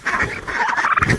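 Bourbon red tom turkey gobbling close by, a single rapid warbling gobble lasting about a second.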